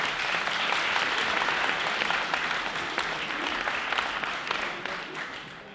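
A hall audience at a French national debating cup applauds steadily with dense, loud, continuous clapping that holds for the whole stretch and eases slightly at the end.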